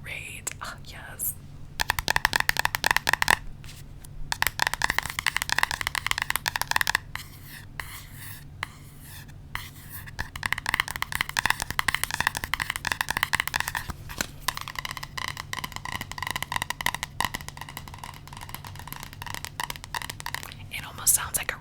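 Fingernails tap oracle cards in a quick, close, dry pattern with a springy, rubber-band-like twang, in bursts separated by brief pauses, under soft whispering.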